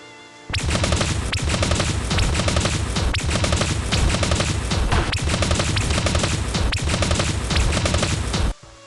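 Sustained machine gun fire in the video game Dragon Raja, a loud continuous rattling stream of rapid shots lasting about eight seconds before cutting off abruptly.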